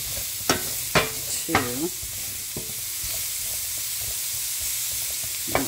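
A large onion simmering in a pan for kabsa, a soft continuous sizzle under a few sharp scraping stirs early on, close and moderately loud, with a brief spoken word.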